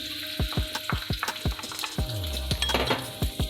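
Shallots frying in two tablespoons of oil, a steady crackling sizzle broken by a run of sharp clinks and knocks as a utensil stirs against the pan, close and fairly loud with no talking.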